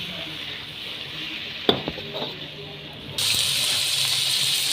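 Chopped tomatoes go into frying okra masala with a soft clatter and stirring scrape, followed by a louder, steady hiss of sizzling that rises near the end.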